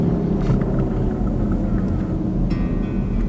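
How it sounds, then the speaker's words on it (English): Steady low interior rumble of a car driving on the road, a constant close drone with faint tonal hum and no pauses, no speech over it. "I'm driving to the post office"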